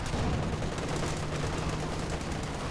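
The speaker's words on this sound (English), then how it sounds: "RedxWings brings in the artillery cover." Artillery cover fire in a Company of Heroes 2 2v2 match: a continuous, dense barrage of rumbling blasts and crackling gunfire that stays loud and unbroken throughout.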